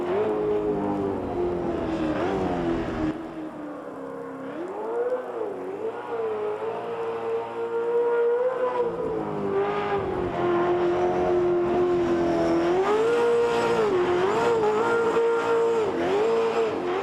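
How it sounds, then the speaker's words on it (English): A V8 Supercar in Automobilista 2 on the Nordschleife, its engine note wavering and revving continuously as it slides with little grip, loud and close, with tire noise and no talk. "right now we're crashing the car"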